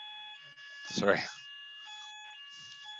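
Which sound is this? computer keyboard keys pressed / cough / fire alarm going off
fire alarm going off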